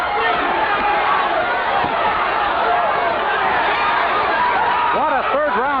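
A boxing crowd in Atlantic City roars and cheers loudly and continuously during a heated third round, dense chatter and yelling throughout, with whistles rising near the end.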